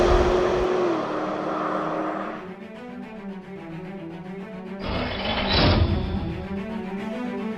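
Supercharged V8 of a 2017 Cadillac CTS-V, third-generation four-door sport sedan with a Corvette-derived drivetrain, droning steadily while driving, then swelling louder mid-clip as it accelerates before easing back to a cruise.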